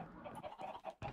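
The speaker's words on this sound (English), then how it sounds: "Tell me these aren't chickens chilling out." Chickens cluck softly in Minecraft on the Mianite server, a quick run of faint, closely spaced clucks with no talk over them.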